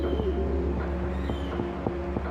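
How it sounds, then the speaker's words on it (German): Pigeons coo in Shenmue's old warehouse district, soft repeated cooing calls over a steady low ambient hum, fairly close and alone without talk. "Tauben."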